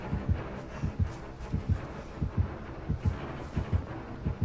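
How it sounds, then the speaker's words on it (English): Heartbeat of the approaching killer in the Dead by Daylight video game, a steady deep thumping pulse of paired beats repeating throughout, loud and close with a low rumbling undertone. "I hear heartbeats"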